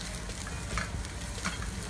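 Egg fries in a hot pan over medium heat for homemade egg fried balls, giving a steady close sizzle with small crackling pops and no talking.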